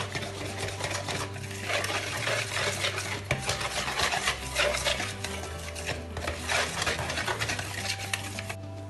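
Flour being stirred into pancake batter in a bowl, a continuous close rhythm of whisking and scraping strokes with occasional clinks against the bowl, steady throughout with no talking.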